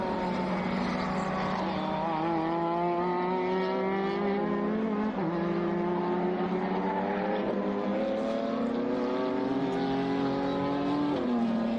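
A race car at Sonoma Raceway drives in along pit road during a Zenith Racing Series race, its engine droning loud and steady with repeated gear-change dips in pitch, and no talk.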